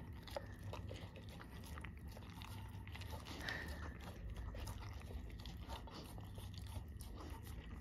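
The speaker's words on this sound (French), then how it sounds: "il mange trop vite par contre" A Malinois puppy gulps its food fast, with quick wet chewing and crunching and small clicks against the bowl, close but fairly quiet over a low room hum.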